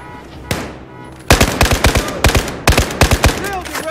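Rapid bursts of automatic gunfire from the Battlefield 4 campaign's Baku mission, a single loud shot followed by repeated close, punchy volleys in quick rhythm, with faint background battle noise.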